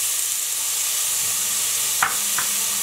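Very finely julienned onions sizzle steadily in hot oil, a close continuous frying hiss with a couple of brief clinks from a utensil near the end.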